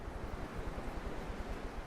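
Ocean surf in a video game after an aircraft crash-lands in the sea: a steady, close wash of waves mixed with wind noise, continuous and fairly loud throughout, with no voices.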